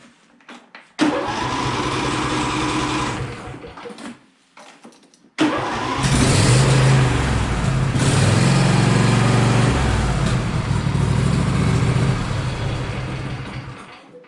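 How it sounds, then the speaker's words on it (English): A John Deere 135 SE lawn tractor engine cranks and catches, runs briefly, cuts out, then restarts and idles loudly and steadily nearby for several seconds before winding down. "So what I will do is just start the engine to fill up the oil filter."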